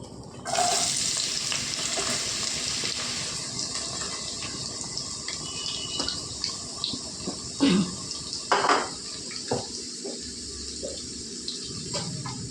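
Onions go into well-heated oil in a pan for a cucumber and capsicum curry, setting off a loud, steady sizzle that continues throughout with a few clattering knocks near the middle, close up and without speech.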